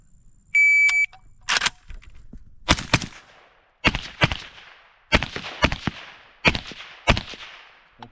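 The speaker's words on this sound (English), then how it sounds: "Listen for the beep." At a DMR shooting match with a Tabuk sniper rifle, a short electronic start beep from the shot timer sounds first, followed by a series of sharp rifle shots, spaced irregularly, in pairs and singles, each trailing off quickly outdoors.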